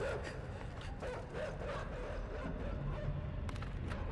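Dogs in the video game Inside bark, yip and whimper amid a dense, noisy game soundscape, moderately close but partly buried under the ambience.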